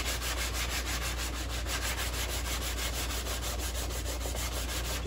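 Steady hand sanding on a large-scale plastic model kit of the C-57D Space Cruiser, a dense, continuous rubbing rasp from quick back-and-forth strokes, close and even with no pauses.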